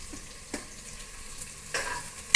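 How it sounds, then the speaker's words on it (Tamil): Garlic and green chili frying in oil give a soft, steady sizzle, with a few brief stirring scrapes and a sharper clatter at the very end. "எண்ணெய் வேகிறதுக்குள்ள அந்த பூண்டு, பச்சை மிளகா"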